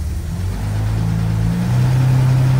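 A car engine is revved steadily while the car struggles to go into reverse, a loud, rough-running drone that climbs in pitch in two steps and holds, close by and alone.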